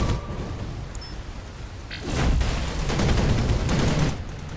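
Rapid gunfire from an attack on a vehicle in the strategy game Anno 2070, starting as a low rumble and rising to a dense, sustained barrage of shots for the last few seconds, with no talk.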